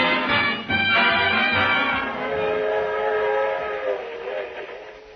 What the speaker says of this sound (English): A suburban railroad station.